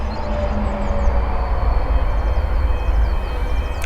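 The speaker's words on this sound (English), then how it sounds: "a train going past" A low, steady rumble of a train passing at a distance, with faint squeals and rattles over a continuous drone.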